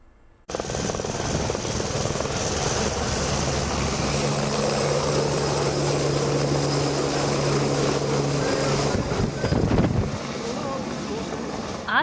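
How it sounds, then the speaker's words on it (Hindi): Helicopters fly overhead on a pilgrimage shuttle service, a loud, continuous rotor thrum and engine drone that holds steady before fading out near the end. "आसमान में उड़ान भरते ये हेलीकॉप्टर"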